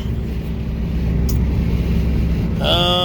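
A car drives along with a steady low engine rumble and road noise from inside the cabin, loud and continuous, with a brief tonal chime near the end.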